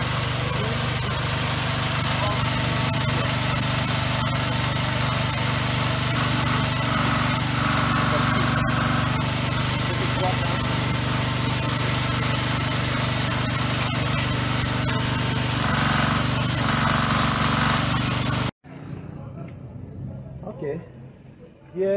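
An engine-driven oil grinding machine runs loud and close with a steady droning hum and vibration; the noise cuts off abruptly near the end, leaving quieter background, and a person talks over it.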